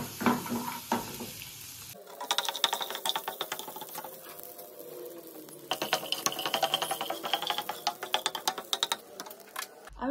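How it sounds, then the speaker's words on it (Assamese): Peanuts frying in butter in a pan, a close crackling sizzle with bursts of rapid, dry stirring clicks that come and go over several seconds, no voices. "এইখিনি অকণমান ভাজি ল'ম ধুনীয়াকৈ"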